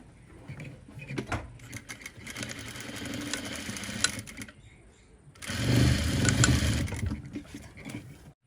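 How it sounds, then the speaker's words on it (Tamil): Sewing machine stitching a birthday gown, its motor whirring in two bursts, a longer run early on and a louder, steadier run near the end, with a short pause between. "ஓகே இப்போ நான் தைக்க போகிறேன்."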